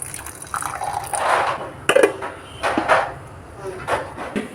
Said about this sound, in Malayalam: ഇതിലേക്ക് നമുക്ക് ലേശം വെള്ളം ഒഴിച്ചു കൊടുക്കാം